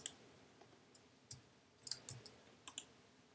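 A computer mouse gives a series of sharp, quiet clicks, some single and some in quick pairs, with a faint hush between them.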